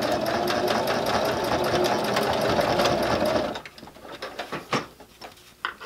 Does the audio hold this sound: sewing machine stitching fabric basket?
yes